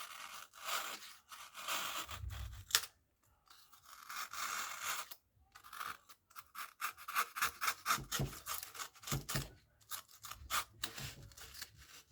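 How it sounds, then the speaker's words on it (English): An offset chisel carving out wood for a jaw harp case, giving close, repeated scraping and rasping strokes in short bursts, faster and more rhythmic toward the end, with brief pauses between passes. "I use the offset chisel like one, just to chisel out a bit deeper."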